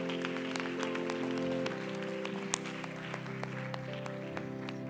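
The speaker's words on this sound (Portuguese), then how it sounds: "aplauda ao Senhor" A church congregation applauds together during a Pentecostal-style worship service, a steady wash of clapping that fills the room and runs without a break, with organ or keyboard tones held underneath.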